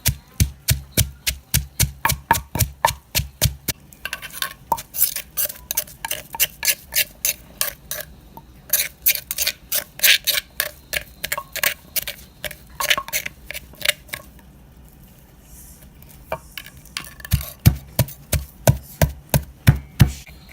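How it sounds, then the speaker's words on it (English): Steady, rhythmic thuds of a pestle pounding soaked sticky rice and other ingredients in a mortar into a thick paste for a spicy Lao-style beef oxtail stew, close and fairly loud, with a brief pause midway before the pounding resumes. "now I'm gonna pound it till it's a thick consistency"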